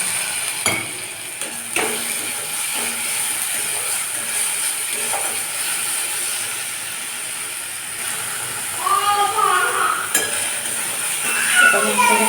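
Ginger garlic paste and a green chili sautéing in a pan with fried onions, heard as a soft sizzle under scattered stirring scrapes and clinks, growing busier toward the end.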